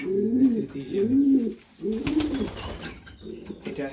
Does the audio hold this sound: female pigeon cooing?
yes